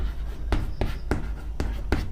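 Chalk or marker taps and strokes on a board during a maths lesson, a steady series of about five distinct knocks, close and fairly loud, with no speech.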